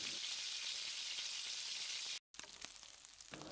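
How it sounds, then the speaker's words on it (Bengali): Potatoes with salt and turmeric frying in a pan, a steady close hiss of sizzling oil that briefly cuts out, then resumes with soft stirring scrapes. "সেগুলো ভেজে নেব।"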